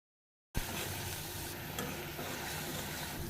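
Onion paste and garam masala fry in hot oil for a chicken curry with papaya and potato, giving a steady, close, dense sizzle with occasional stirring scrapes, no voices.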